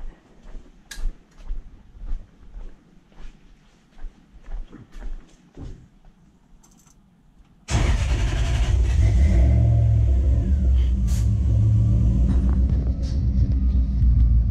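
Quiet clanking and shuffling give way to the 1UZ VVTi V8 in a 1947 Ford truck roaring to life, then idling loud and rough with a deep, rumbling, lopey burble.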